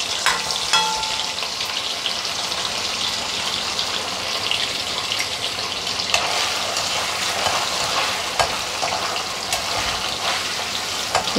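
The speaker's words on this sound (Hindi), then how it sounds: "पनीर को थोड़ा रोस्ट कर लूँगी।" Paneer cubes fry in a pan for chole chaat, a loud continuous sizzle and crackle with occasional stirring scrapes running the whole time, no talking.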